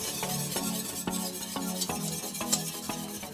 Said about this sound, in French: On remue jusqu'à ce que le mélange épaississe.